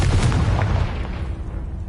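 Confringo blasting spell explosion in Hogwarts Legacy, a single heavy boom with deep low rumble that strikes at once and fades away over about two seconds, with no voice over it.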